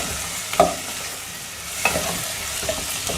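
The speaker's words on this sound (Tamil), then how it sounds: "குடமிளகாய் போட்டு வதக்கலாம்." Capsicum sautéing in a pan for tawa rice, a steady soft sizzle with a few sharp scrapes of a spatula stirring, close and fairly quiet, no voices.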